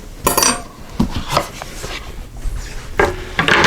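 A wooden cutting board is handled and set down in a home kitchen while making bread, giving a few sharp knocks and clatters with light rubbing and scraping between them.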